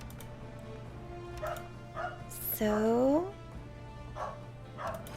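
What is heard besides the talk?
barking dogs in the video game Sakura Dungeon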